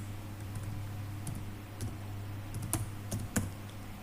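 Keys clatter on a computer keyboard as the word "invoice" is typed into a point-of-sale invoice form, a few scattered taps then a quicker cluster of clicks over a steady low electrical hum.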